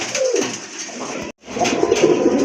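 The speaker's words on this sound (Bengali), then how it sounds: "আরেকটা পেয়ার কবুতর দেখতে পাচ্ছেন। এটা হচ্ছে আপনার গড়া কবুতর।" A pair of gola pigeons coo in low, rolling murmurs close by, broken by one brief silent gap before the cooing resumes.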